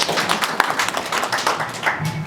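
An audience at a cook stove carbon project meeting in Kisii County claps together, a close, steady patter of many hands lasting a couple of seconds before it thins out.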